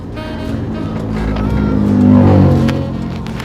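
A 2001 Daihatsu Karimun car engine revs up steadily in first gear from low to a higher pitch, growing louder toward the middle before easing off, with no one speaking.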